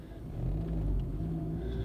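A car drives slowly around a fast-food restaurant parking lot, its low engine rumble steady and close throughout, swelling slightly midway with no talking.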